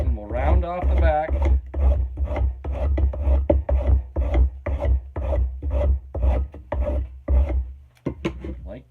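A rasp files the back of a wooden axe handle to round it off, close and loud in quick, steady back-and-forth strokes with a brief faster burst at the start.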